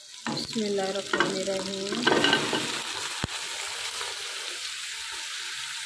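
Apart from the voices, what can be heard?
beef sizzling as it is added to the frying pan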